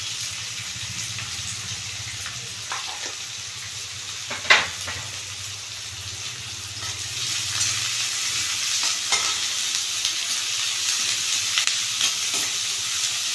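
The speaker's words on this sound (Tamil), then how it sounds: "நல்லா வதங்கட்டும் வெங்காயம்" Onions sizzling and frying in a pan, a steady crackling hiss with occasional stirring scrapes and one sharper clatter, no talking.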